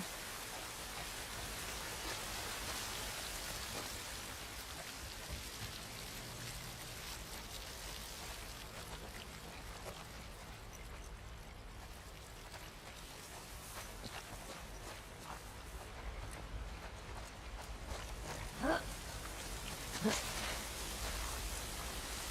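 Soft, steady rain in The Last of Us Part II patters in a broad hiss throughout, with occasional footstep-like taps and small knocks over it; no one speaks.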